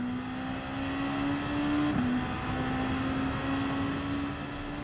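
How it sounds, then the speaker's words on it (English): A race car engine drones steadily at Suzuka in a racing game, its pitch briefly dropping and stepping as it shifts down through the gears, then rising again as it accelerates, loud and close. "we're going to come down 3 gears into first, back up to second, and then accelerate out"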